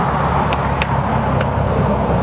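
Steady, loud road traffic rolls past beside a parked 2017 Jayco Redhawk 26 XD Class C motorhome, a continuous low rumble with a few brief high clicks on top.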